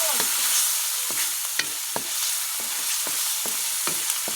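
Food being stirred in a frying pan, with a steady sizzle of frying underneath and repeated scraping strokes of the utensil against the pan at an uneven rhythm, close by.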